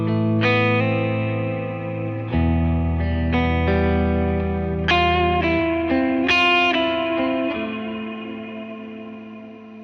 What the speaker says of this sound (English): This is the main one. It's like the main ambient reverb.